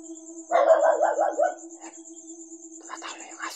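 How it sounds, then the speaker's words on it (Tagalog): A dog barks in a quick burst of several rapid barks, fairly close, then quiets; faint rustling follows. "Tumatalo yung aso ko."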